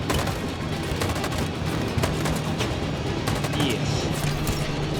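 Rapid gunfire fills a scene in the video game Detroit: Become Human, with dense bursts of automatic shots and sharp cracks over a steady low hum, loud and continuous throughout.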